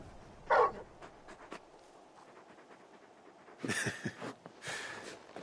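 Large dog in a video game making brief whimpers and panting breaths, short quiet bursts separated by near silence.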